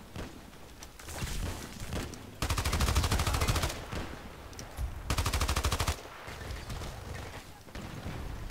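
M249 SAW light machine gun in a video game firing two long sustained bursts of rapid automatic fire, loud and close, with quieter gameplay noise between them.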